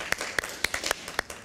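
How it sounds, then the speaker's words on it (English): A few sparse, light hand claps spaced irregularly apart, soft and close, offered as a small gesture of applause for essential workers. "We're just gonna give you a virtual hand of applause"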